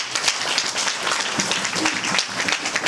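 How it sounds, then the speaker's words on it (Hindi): Wedding guests clap together during the ceremony, a steady crowd of hands beating at moderate loudness with a few stronger claps, continuous throughout. "ताली बजाए दें।"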